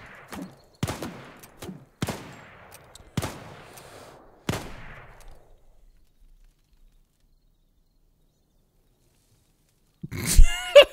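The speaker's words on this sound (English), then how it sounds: "Keep shooting." Gunfire in the Wild West Online video game: five sharp, loud shots spaced about a second apart, followed by a few seconds of silence and then a burst of noisy clatter near the end.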